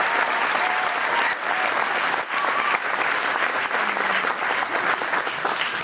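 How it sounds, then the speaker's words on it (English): Loud, dense applause from an awards-night audience, a continuous roar of clapping that holds steady throughout with little variation. "So I give everyone there an applause"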